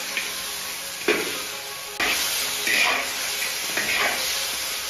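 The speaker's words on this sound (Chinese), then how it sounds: "倒入调好的料汁， 用锅铲翻炒出酱香味" Snapping turtle pieces stir-fried in a wok with rice wine and a mixed sauce, a metal spatula scraping and tossing over a steady sizzle, with a few sharper clanks and bursts of hissing close by.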